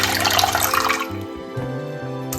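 Water is poured into a pot of salted water for soaking Indian gooseberries. A brief splashing gush settles into a gurgling, ringing trickle as the pot fills.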